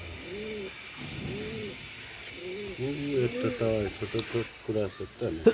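Large pigeons at a pigeon farm coo in repeated throaty, rolling phrases close by, the cooing growing busier and overlapping toward the end amid faint background noise.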